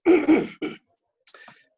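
A man clears his throat with two harsh rasping bursts and a shorter third one close to the microphone, then a faint softer trailing sound after a brief silence.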